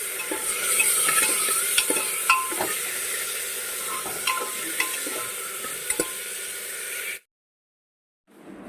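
Onion and leafy greens sizzling in hot oil for khichdi, a loud, steady fry with repeated scraping stir strokes and utensil taps, ending abruptly in near silence before a faint return.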